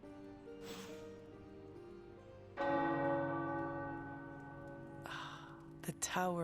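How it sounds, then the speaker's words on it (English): Large tower bells in the video game Marvel's Midnight Suns ring out in several resonant strikes, each tone swelling and fading slowly, with a quiet breathy voice heard faintly between them. "The tower bells are ringing."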